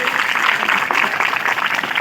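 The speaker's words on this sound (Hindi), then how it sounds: "इनके लिए एक बार विशेष तालियां बजा दीजिए" Audience at a school Hindi Diwas celebration claps for class 6 children: a brief, loud burst of dense, steady clapping filling the whole moment.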